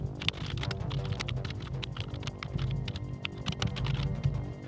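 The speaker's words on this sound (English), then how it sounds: "We could continue to type every line of code" Code is typed on a MEGA65 computer keyboard, a brisk, close, irregular clatter of key presses continuing steadily with no talk.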